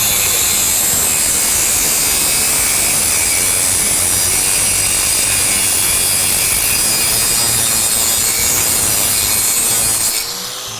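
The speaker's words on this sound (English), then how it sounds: "If you have to cut any reinforced cable, hose, hydraulic lines, anything like that you need to cut this metal and rubber all together" An Hdii 2 cutting wheel on a grinder slices through reinforced cable or hose of metal and rubber, giving a loud, steady, high-pitched grinding whine that runs unbroken for about ten seconds before easing off at the end.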